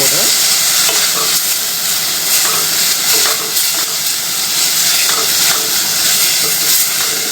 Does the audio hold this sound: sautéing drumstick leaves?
yes